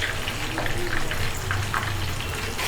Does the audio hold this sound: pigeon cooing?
no